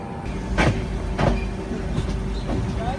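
Train departing Gwalior station, a steady low rumble of the moving train with periodic heavier thumps as the carriages roll along, fairly close and continuous.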